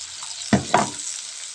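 Shallots, turmeric and bird's eye chilies fry in a pan under a steady sizzling hiss, with two quick stirring scrapes close by in the first second.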